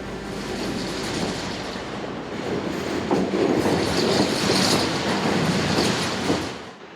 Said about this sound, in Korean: 기차 소리에 정신을 차렸다